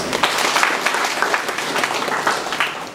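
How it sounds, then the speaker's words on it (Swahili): An audience applauds for the prime minister at a rescue-training seminar for fishermen on Bumbile Island in Kagera, a steady, dense burst of clapping from many hands that holds for about three seconds, then eases off. "Naomba tumpigie makofi."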